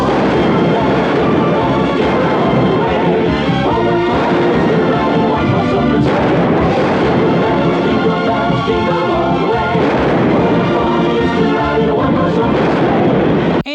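Shotgun blasts fired through a house by a woman in a wheelchair in a retro VHS-era Christmas horror movie, loud and continuous within a dense, chaotic soundtrack that runs unbroken for the whole stretch.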